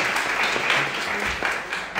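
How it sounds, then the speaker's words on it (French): Brief, steady applause from a church congregation welcoming a visitor, a soft wash of many hands clapping together at moderate distance. "On peut applaudir pour donner la bienvenue"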